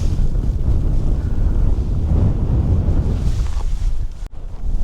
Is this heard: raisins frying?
no